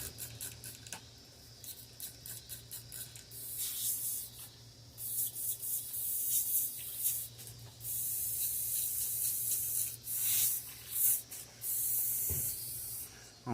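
An airbrush is flushed clean while painting a largemouth bass lure, releasing repeated bursts of sharp airy hissing spray, some short and quick, others sustained for seconds, over a faint steady hum, with no talking.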